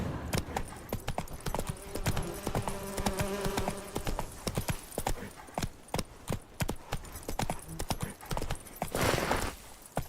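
The horse Roach's hooves clip-clop in The Witcher 3, a run of sharp, fairly close hoof strikes in an uneven walking rhythm, with faint buzzing in the background.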